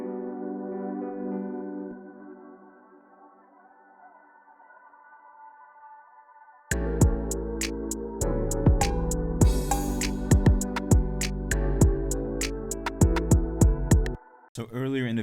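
Chord patterns pitched up an octave and run through an effects chain of EQ, filter, granular, crystallizer and shaping plugins, a sustained tonal pad first, then a full R&B beat with punchy drums joining halfway, loud and continuous.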